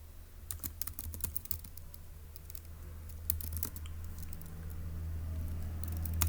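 Computer keyboard typing in quick, irregular bursts of close clicks, busiest early on and then thinning, over a low steady hum with no speech.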